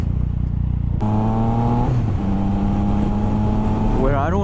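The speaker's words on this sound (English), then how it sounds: "This bike backfires a lot when I downshift like that." A 2016 Yamaha FZ-09/MT-09 motorcycle engine revs loudly with steady tone shifts as gears change, ending with a quick rising and falling rev burst, under heavy wind noise.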